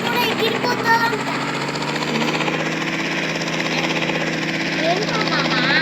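Helicopter in the Indian Bikes Driving 3D video game, a steady droning rotor and engine hum that runs unbroken throughout, with a person talking over it.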